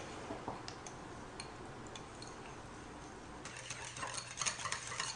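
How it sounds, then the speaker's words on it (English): A whisk stirring a sweetened panna cotta mixture in a bowl: faint, irregular light clicks and taps against the bowl, growing louder and busier near the end. "And then we're just going to whisk"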